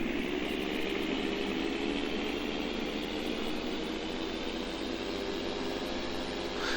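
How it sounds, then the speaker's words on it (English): A Deutz-Fahr Agrotron tractor engine runs continuously in Farming Simulator 19, a steady broad droning hum that holds at an even level without change. "I love the engine noise of this."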